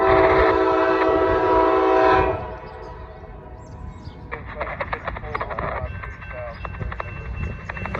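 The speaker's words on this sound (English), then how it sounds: "It's a Norfolk Southern train on the CSX." A train horn blares loudly for a couple of seconds, then a passing Norfolk Southern freight train on CSX track rumbles on with rhythmic clanking of wheels and cars, steady and close.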